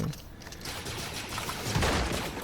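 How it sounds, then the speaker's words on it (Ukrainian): Rapid video game gunfire rattles in quick volleys against a dense, noisy background, fairly close and continuous. "він ще й зверху стріляє"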